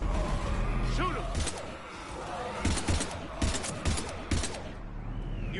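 Scattered gunfire in a Normandy-set war video game, several sharp shots and short bursts spread across a noisy battlefield bed, with voices talking over the din.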